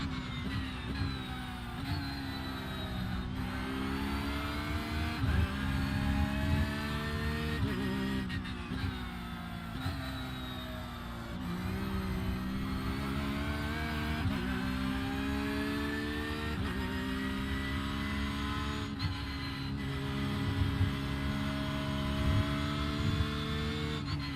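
A Porsche 911 race car in the iRacing sim roars continuously, its engine pitch climbing and dropping sharply several times as the throttle lifts and gears change over a long stretch.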